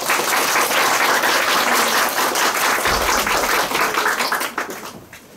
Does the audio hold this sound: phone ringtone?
no